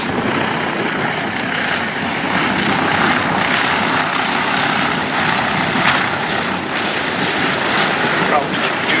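A Bristol Blenheim propeller aircraft flies past at an air show, making a steady, loud, droning engine roar throughout. A commentator talks over the noise.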